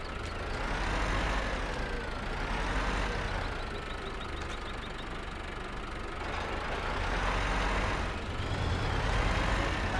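A vintage four-wheel drive tractor in Farming Simulator 15 drives along with a steady, loud engine drone and a rhythmic knocking chug. The pitch swells and dips gently over time, with no talk.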